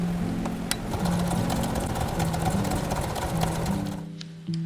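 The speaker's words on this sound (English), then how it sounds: "we are making a straight stitch over here" A sewing machine running a straight stitch through fabric lining and clear vinyl for a zipper pouch, with a steady close mechanical whir and rapid needle clatter that stops briefly and restarts near the end.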